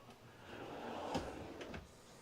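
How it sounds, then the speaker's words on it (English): A pull-out drawer in a travel trailer slides open with a quiet rolling rattle and a soft thump at the end, close by in a hushed interior. "Another pull-out drawer."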